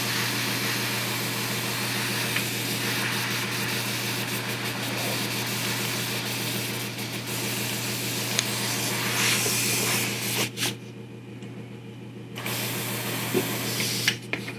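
An airbrush mists a coat of saturated violet dye onto a 1/4-scale custom Hulk figure, a steady close hiss over a low compressor hum that runs almost unbroken and cuts out briefly near the end.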